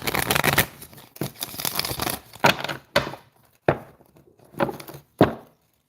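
A run of crisp, papery riffling bursts, each a few tenths of a second, then several sharp snaps as cards are bridged and squared, close by.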